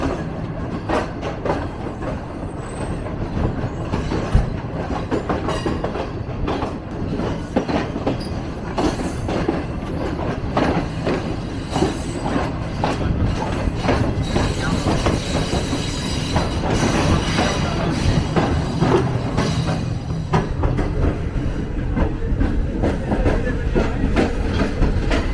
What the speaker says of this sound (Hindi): तो अभी तक जो ट्रेन है हमारी बहुत ही अच्छी स्पीड में आई है, बिल्कुल ऑन टाइम चल रही है।